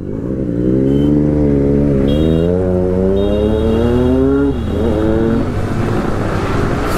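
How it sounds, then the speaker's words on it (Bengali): A new Triumph Street Triple motorcycle engine revs loudly up close, its throaty pitch climbing in a couple of sustained pulls before dropping back to a rough, rumbling idle. "আর আমার তো মনে হচ্ছে বিএমডাব্লিউ থেকে এই বাইকটা বেশি লাউড মনে হচ্ছে"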